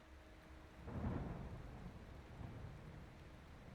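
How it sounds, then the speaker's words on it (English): Night rain falls steadily in a video game while a low rumble of thunder swells and fades, the downpour hissing softly underneath throughout. "So it is dark and it is raining."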